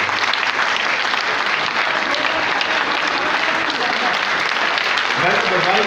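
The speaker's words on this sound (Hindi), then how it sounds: "आपके लिए तालियां।" Audience at a Lions Club regional convention in Nagaur applauding, steady loud continuous clapping with a voice rising near the end.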